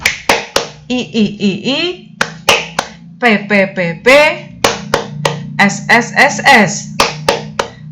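A class performs a rhythmic clapping chant in sharp patterned bursts of claps, with voices chanting syllables in unison between and over the claps.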